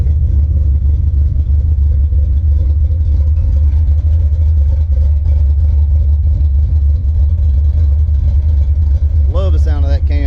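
A supercharged Foxbody Mustang engine with an F303 cam runs close by, a loud steady low rumble with a choppy lope, with a brief voice near the end.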